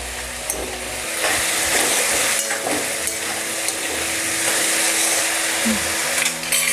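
Potato sabudana khichdi being stirred in a pan over the heat, a steady close scrape and shuffle of the spoon through the mixture over a continuous frying sizzle, with no talking.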